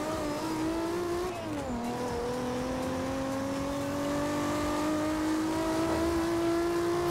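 A car engine revs at full throttle in Forza Horizon 2. A loud, steady droning tone dips briefly after a shift, then climbs slowly and continuously as the car accelerates, with no speech.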